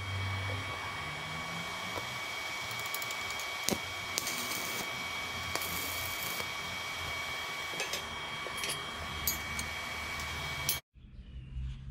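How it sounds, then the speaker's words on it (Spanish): Welding a flat steel bracket onto a steel pipe at 90 degrees for a shelf, a steady sizzling crackle with sharp pops that runs continuously for about eleven seconds before cutting off abruptly. "vamos a soldar a 90 grados, bien a 90 grados, el caño que queremos utilizar para el estante"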